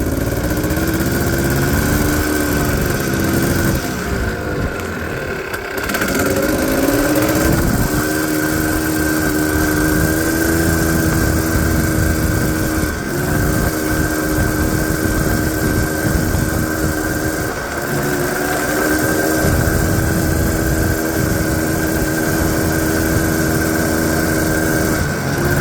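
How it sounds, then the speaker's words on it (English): A Honda Odyssey FL350r go-kart engine with a Polaris clutch revs on a test run, a loud, continuous buzzing drone that rises and falls in pitch as the throttle opens and eases off. "this is kind of the first run with the Polaris clutch. We're gonna see if it upshifts and how it revs."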